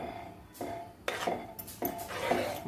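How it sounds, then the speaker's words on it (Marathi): Bangda (mackerel) curry being stirred in a pot: a few separate bursts of utensil scraping and clinking against metal, close and moderately loud, with no talk. "तर व्यवस्थित आपण हे ढवळून घेऊया"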